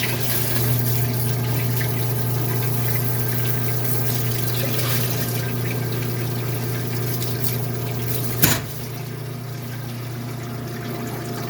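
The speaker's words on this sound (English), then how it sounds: "So let's go ahead and wash this off in the parts washer." A parts washer pump runs steadily with flowing liquid, rinsing gunk off a fuel level sender from a 1979 Mercedes 300SD, a continuous close wash with one brief clunk near the end.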